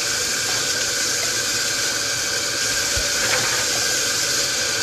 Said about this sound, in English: I'm washing bottles right now.